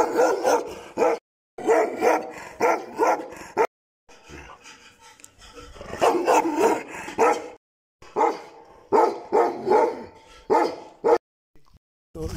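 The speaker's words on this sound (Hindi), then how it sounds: "इसके अंदर रहते हैं बड़े बड़े कुत्ते।" Large dogs, including a Himachali Bhotia dog, bark at Company Garden in Mussoorie, Uttarakhand: loud, close barks in rapid bursts separated by short pauses, with a stretch of softer yelps and panting in between.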